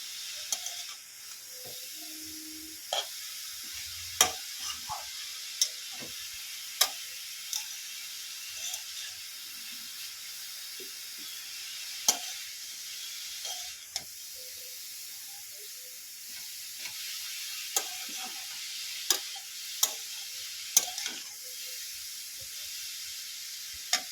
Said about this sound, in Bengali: গন্ধটা যতক্ষণ না যাচ্ছে ততক্ষণ আমি এটাকে ঘি দিয়ে ভালো করে ভাজতে থাকবো